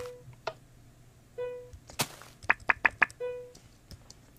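A homemade Minecraft redstone alarm is set off by a door and pressure plate, giving a series of short wooden thunks and clicks, several spaced apart and then a quick run of four sharp taps.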